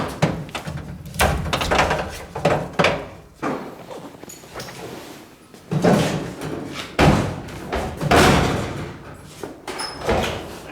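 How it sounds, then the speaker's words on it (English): Door of a 1973-1987 Chevy truck being opened and shut repeatedly, a series of loud metallic thuds and slams with latch clicks, spaced irregularly and close by, with no talking. "I'm going to just open and shut it until everything's aligned as far as the body work"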